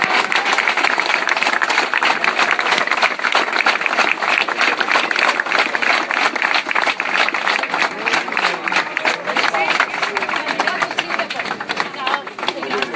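Dense applause and clapping from a large crowd at an outdoor political rally in Godega di Sant'Urbano, steady and loud throughout with occasional voices mixed in.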